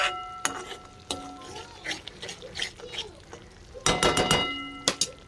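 Drumstick curry being stirred in a pan, a series of close scraping and clinking strokes with a burst of rapid clatter near the end, a soft voice in the background.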